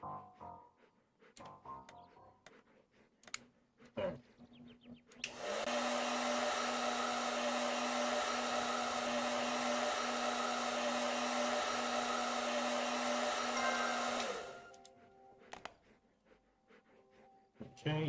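Hair dryer in the Animal Shelter Simulator video game: a loud, steady whooshing blow with a humming motor tone runs for about nine seconds. Clicks and soft game sounds come before and after it.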